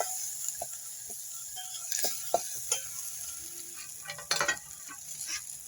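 Chopped ingredients with curry leaves and green chillies are stirred and mixed in a pan, giving soft scraping and clinking strokes over a steady background sizzle, with several sharper knocks from the spoon against the vessel.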